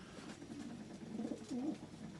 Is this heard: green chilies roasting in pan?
no